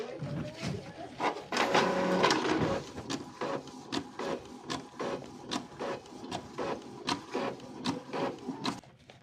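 An Epson L3210 inkjet printer runs through a photocopy cycle with rhythmic mechanical clicks, whirring and paper-feed rubbing, steady and close, with no talk.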